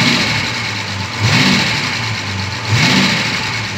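A V12 Jaguar E-type engine idles and twice swells with light blips of throttle, a smooth, close, steady drone rising briefly and settling back.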